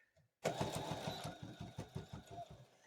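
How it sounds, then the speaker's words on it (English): A sewing machine starts abruptly and runs in a quick, even series of close stitch pulses while taking a short back stitch on a quilted table runner, stopping after a couple of seconds; brief faint handling precedes it. "I'm going to take a little back stitch"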